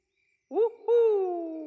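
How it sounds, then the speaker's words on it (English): Cartoon girl owl hooting in a Peppa Pig episode, a single clear, close two-part hoot with a short first note and a longer, gently falling second note. "It's a girl owl."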